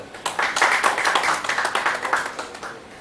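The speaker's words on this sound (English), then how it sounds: "I express a round of applause for all my members of LCKWE" Applause from members at a Lions Club meeting, a burst of many hands clapping fairly close that builds quickly, holds for about two seconds and then thins out.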